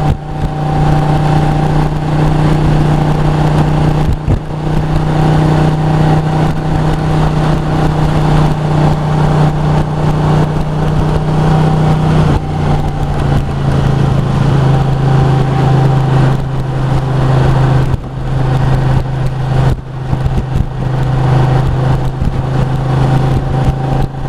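A motorcycle engine idles steadily as it warms up, a constant close rumble with slight wavering in pitch for about twenty-four seconds, with no one speaking.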